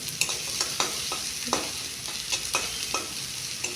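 Onion and garlic fry in a pan on a gas stove, a steady close sizzle broken by repeated scraping stirs of a spoon at a quick, uneven rhythm, with no voices.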